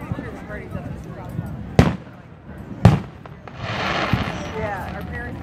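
Fourth of July fireworks in St. Charles, Illinois crack twice in sharp nearby bursts, followed by a fizzing crackle, while people chat and call out throughout.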